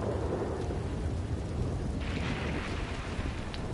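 Storm in the video game Red Dead Online: a continuous low thunder rumble under broad, hissing rain, with a brighter wash of rain swelling in partway through. Nobody speaks.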